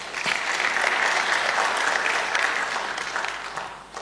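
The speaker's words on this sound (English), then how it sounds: "Why don't you clap for yourselves?" Audience members at a talk on Lagos and the African startup scene clap for themselves in a dense, steady burst of applause that holds strong for several seconds before tapering slightly at the end.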